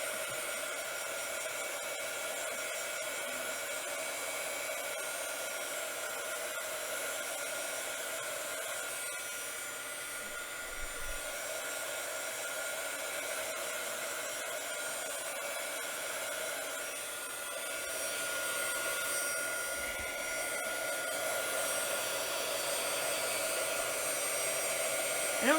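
A craft heat tool blows steadily, drying a wet paper tag, a constant whirring rush heard from a few steps away that runs unbroken with only slight shifts in level.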